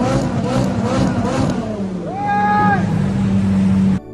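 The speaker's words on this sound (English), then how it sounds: "This guy was revving the engine of his Lamborghini to show off" A Lamborghini engine revs loudly up close, a sustained roaring drone with a rising, wavering whine near the middle that cuts off abruptly at the end.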